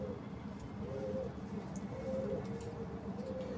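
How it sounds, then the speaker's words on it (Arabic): Pigeons cooing in a loft, soft repeated low coos close by over a steady background hiss, with someone talking nearby. "بص الحمام، بص"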